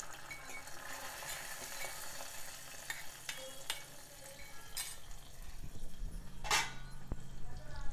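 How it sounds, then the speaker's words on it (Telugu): Hot tempering tipped into a boiled amla and tomato mixture for chaaru gives a quiet sizzle and stirring clatter, soft and close, swelling a little toward the end. "ఇప్పుడు ఈ తాలింపు అంతా ఇందులో వేసుకోవాలి"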